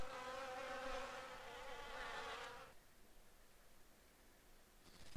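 Bees buzz in a video game, a dense, steady hum that carries for nearly three seconds before abruptly dropping to faint background hiss, with no talk.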